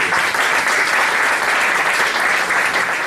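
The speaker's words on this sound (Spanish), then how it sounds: "os pido un fuerte aplauso para Fernando" Strong, sustained audience applause for a speaker at a business event, dense and even clapping from many hands throughout.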